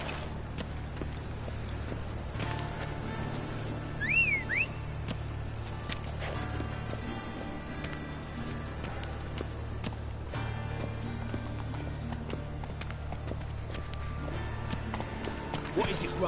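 Roach, a horse in The Witcher 3: Wild Hunt, trots with a steady clip-clop of hooves under a low ambient drone, while someone talks over it.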